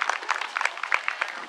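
Scattered, moderately distant applause from a small crowd honoring the winner at an equestrian prize ceremony, with uneven individual claps continuing for the short stretch.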